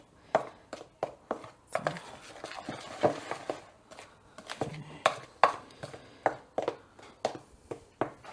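Spice powder is mixed into a chicken coating mixture with rhythmic tapping and knocking in a bowl, a steady series of close, crisp hits with no one speaking.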